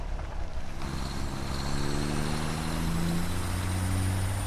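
A truck drives in the game Satisfactory, a steady engine drone that rises in pitch as it picks up speed, loud and close with no voices.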